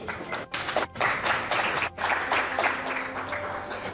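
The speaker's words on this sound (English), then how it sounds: "So please, round of applause." Audience applause at a crypto expo in Europe as a company CEO takes the stage, a steady wash of clapping with a few brief dips, fairly close and continuous.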